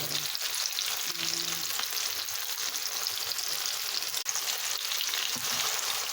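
Pork adobo is added to a frying pan of string beans (sitaw) and sizzles loudly and steadily throughout, with a faint stirring scrape now and then and no talking.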